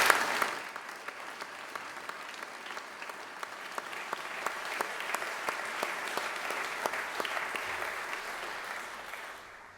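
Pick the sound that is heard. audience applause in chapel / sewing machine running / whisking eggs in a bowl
audience applause in chapel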